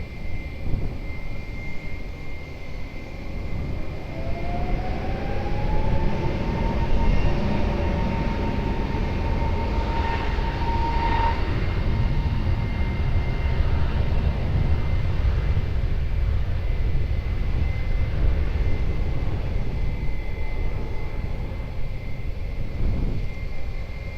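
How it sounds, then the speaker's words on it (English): A Lufthansa airliner takes off from runway 20 at Lisbon Airport, a steady, broad engine roar that stays loud and continuous throughout, with a brief rising tone partway through. "Lufthansa 35 Mike, wind 250 degrees, 10 knots, variable between 210 and 270 degrees, runway 20 cleared for takeoff"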